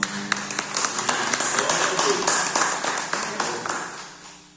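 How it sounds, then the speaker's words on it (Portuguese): A church congregation claps hands in steady rhythm in praise, many palms beating together under singing voices, fading toward the end. "Você pode louvar a Deus com as suas palmas?"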